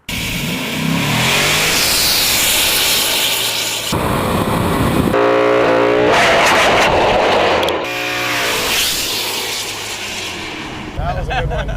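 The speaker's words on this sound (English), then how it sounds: "I think burnouts would cool it down." A car with a 727 cubic inch engine doing burnouts and raising Australian tire smoke, roaring at full volume for the whole stretch with hard revving surges that rise and fall between pulls.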